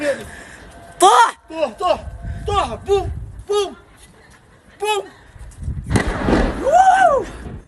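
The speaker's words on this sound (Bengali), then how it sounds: "প্রবল বিস্ফোরণের শব্দ" Several sharp, loud booms and bursts from a cluster missile attack from Yemen on Israel, spaced a second or so apart, with frightened voices crying out between and after them.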